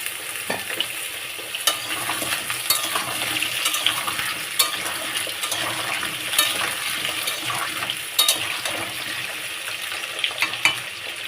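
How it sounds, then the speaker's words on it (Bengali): Potatoes sizzling in hot oil for aloo dum, a steady loud crackling fry with scattered clinks and stirring scrapes of a utensil against the pan, no voices. "দেখো তেল গরম হয়ে গেছে, আমি আলু দিয়ে দিলাম"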